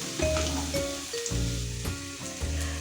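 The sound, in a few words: onions frying in a pan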